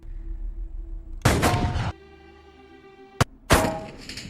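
Three sharp gunshots in a Jack Reacher film shooting scene as he hits a target with every bullet, two long loud blasts with ringing tails and a short sharp crack between them, no talk.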